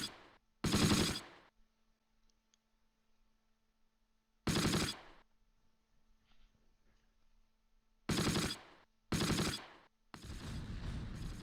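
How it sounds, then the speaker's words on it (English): Several loud, sharp bursts of rapid booming cannon fire in a video game, in separate clusters with quiet gaps between them. "I hear lots of cannon fire."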